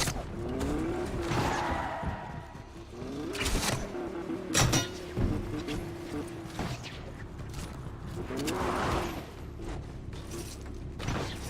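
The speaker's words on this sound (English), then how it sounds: "That's why I hear a car." A car drives in the video game Fortnite, with a fairly quiet engine hum broken by creaks, mechanical clunks and short bursts of tire squeal.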